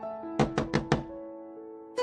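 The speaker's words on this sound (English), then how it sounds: "Suddenly, someone knocked on the door." Four quick, sharp knocks on a wooden door land in an even rhythm, close and distinct over a soft background tone, followed by another single knock after a short pause.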